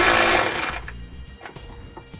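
A 10 mm socket ratchet loosening a bolt on a 2017 Nissan Rogue during trailer wiring installation, a short burst of mechanical whirring followed by a few close metallic clicks and taps.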